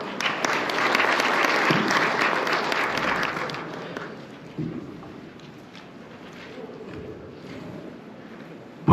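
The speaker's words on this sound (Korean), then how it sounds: "박수로 맞이해 주시기 바랍니다." An audience at a national professional engineers' conference applauds to welcome a lecturer, loud dense clapping for about four seconds that then thins and fades to quiet room tone.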